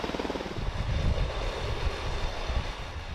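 An Apache helicopter's engine and rotor give a dense, continuous roar with a faint rhythmic pulsing, loud and steady throughout.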